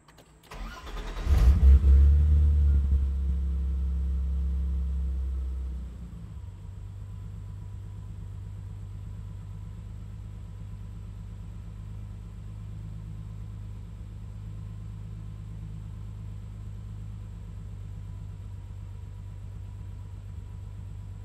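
A BMW E30 with MS3Pro engine management cranks and fires with a loud burst, settles through a richer after-start phase, then holds a steady, even idle for the rest of the stretch, with no voices.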